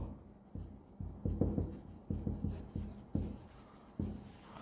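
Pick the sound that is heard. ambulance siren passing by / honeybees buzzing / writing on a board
writing on a board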